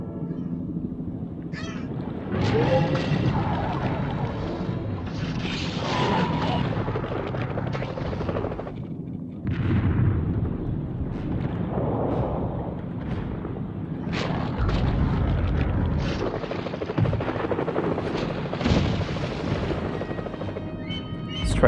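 A helicopter in the video game Jaws Unleashed drones steadily throughout, with mixed game effects and a voice talking over it at times.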